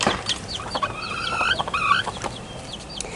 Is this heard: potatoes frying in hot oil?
no